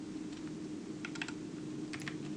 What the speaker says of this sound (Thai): ติดคีย์บอร์ดอาจจะดังหน่อยนะฮะ พอดี มันเป็นคีย์บอร์ดใหม่มันเป็นบูสวิต